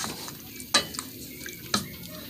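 Spoon stirring a pot of Honduran-style pork kidney stew with spices and broth, two brief clinks of utensil against the pot standing out over a soft, steady simmering background.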